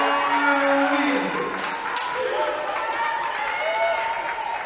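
Women's college volleyball players cheering together on court after a big block in a Wheaton vs Millikin match, with shouts and whoops ringing over gym crowd noise and a commentator's voice.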